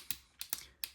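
Forward clicky tail switch on an Acebeam T35 flashlight, clicking five crisp, close times in quick succession with short pauses between presses.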